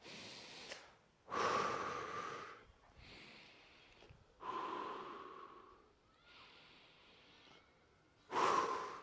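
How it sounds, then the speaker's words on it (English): A person breathing in deeply during a fascia release and mobility exercise: several long, close breaths alternate between strong inhales and softer exhales in a slow, even rhythm, with no talking. "I breathe in"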